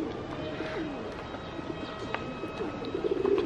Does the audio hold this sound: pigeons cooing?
yes